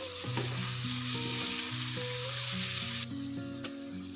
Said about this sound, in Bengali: এবার আমি চিকেনটা ঢেলে দিচ্ছি। মিক্স করে নেব চিকেনটা।